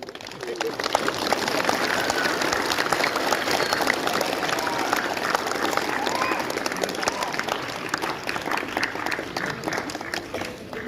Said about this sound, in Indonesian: Tepuk tangan untuk para guru